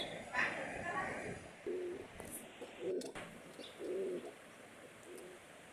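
Soft, low pigeon coos repeat in short phrases against a steady background hiss, with a brief higher chirp near the start.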